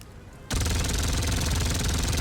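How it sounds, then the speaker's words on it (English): In Classified: France '44, a mounted MG opens up after a brief quiet moment. It fires one sustained, loud, rapid burst of machine-gun shots in an even, hammering rhythm that runs to the end. "let's definitely use the MG"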